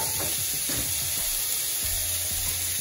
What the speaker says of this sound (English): first thing we're going to do is we're going to sear our sausage